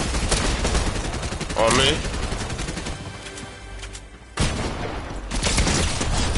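Rapid bursts of gunfire in Fortnite, loud and close, break out in volleys at the start and again near the end, with a player briefly talking between them.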